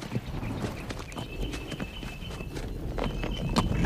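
Hooves clop steadily on the ground as horses walk past, a continuous uneven clatter with background noise.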